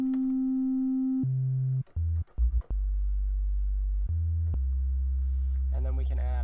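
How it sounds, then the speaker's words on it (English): A pure, deep sine-wave synth tone in FL Studio steps down through several low pitches, briefly stuttering, then settles into a sustained sub-bass hum with a faint click near the end. "it's really easy to get a strong sub bass with just a sine wave and some distortion"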